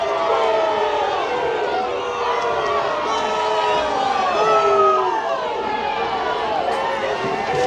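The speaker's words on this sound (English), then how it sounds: "I tell you what, this Muleshoe crowd not happy about that one" A home crowd at a Muleshoe high school football game roars and shouts in displeasure, a loud, sustained wash of many voices with cheering and yelling layered throughout.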